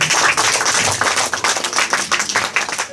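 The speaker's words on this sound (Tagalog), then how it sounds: "Palakpakan natin si Lord." A church congregation claps together in praise during a Holy Week sermon, a dense, loud, steady burst of many hands that rises and falls in waves for a few seconds.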